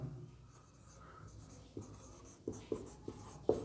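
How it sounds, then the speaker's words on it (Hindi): Teacher writing on a board, a series of quiet scratchy strokes and sharp taps of chalk or marker, irregular and close, growing more distinct toward the end. "मैं लिख देता हूं यहाँ पे"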